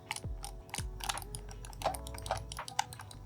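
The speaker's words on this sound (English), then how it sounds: "There's a stick moving. Other stick, here click." Sharp clicks from the thumbsticks of a GameSir G7 Pro controller, a handful of distinct taps spaced irregularly, close and fairly crisp with faint mechanical rattles between.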